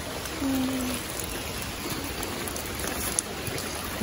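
Heavy rain falls steadily around a shrimp-fishing spot, a constant close hiss of drops on surfaces with a brief tonal squeak early on and a small click late, no talking.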